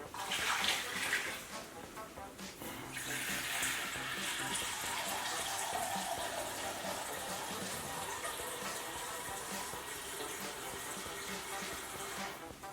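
Water for a fish brine pours into a container in a steady, close gushing stream after a brief splashy start, running evenly to the end with no talking.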